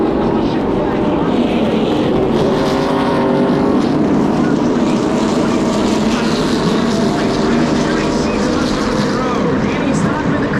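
NASCAR race cars roar past the start-finish line at Daytona during the 2025 United Rentals 300, a loud, continuous engine drone sustained throughout with a commentator talking over it.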